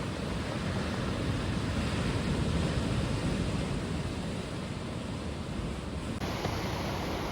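Waves coming in on a shore on a quiet morning by an open-fire campsite, a soft continuous surf wash with some wind noise, steady and fairly distant, no talking.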